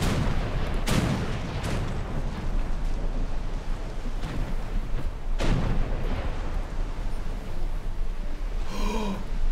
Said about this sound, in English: We're gonna shoot long range and see if we can see our cannonballs in the air.